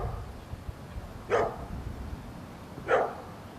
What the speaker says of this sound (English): The dog next door is commenting on the encroachment of people in his terrain.